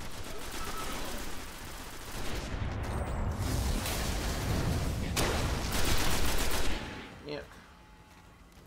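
Gunfire in the Destiny video game: sustained rapid shooting and impacts for several seconds, loud and dense, ending with a final shot before the sound drops away. A voice speaks briefly.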